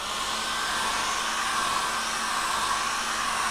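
A hair dryer blowing over a watercolour painting on paper from about 20 centimetres away, giving a steady, loud, unbroken whooshing hum with no pauses.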